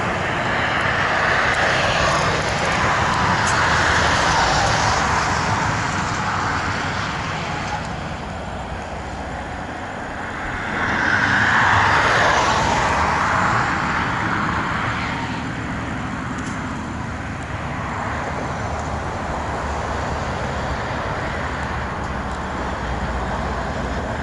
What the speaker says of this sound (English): our train is coming here